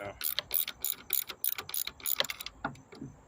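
A ratchet wrench loosens a strut bolt on a 2004 Chevrolet Impala in quick, close clicking bursts, then slows to a few scattered clicks.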